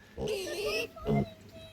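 Two short squealing grunts from a piglet, the first drawn out and the second briefly louder, close and fairly quiet.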